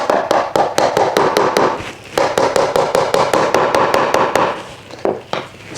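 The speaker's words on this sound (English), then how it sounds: "Let's hammer this one into place." A hammer taps repeatedly on a Bamworld bamboo plant stand shelf to seat it into place. The blows come as quick, sharp bursts of close, loud knocks, with a brief pause between runs.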